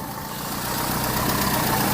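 A Peugeot 207 engine idles steadily after a repair, a continuous close, loud mechanical hum with a slight rise in level over two seconds and no voices.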